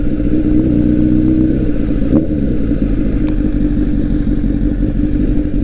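A motorcycle engine drones loud and continuous while the bike is ridden through the rain on pizza deliveries, a steady rumble with no break.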